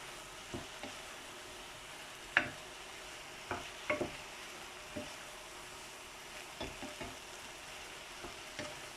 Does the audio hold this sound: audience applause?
no